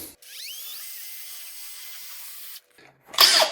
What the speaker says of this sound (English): start one edge, and then slowly tip over and drill in.